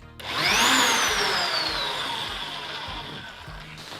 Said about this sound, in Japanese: よし、削っていこうかな。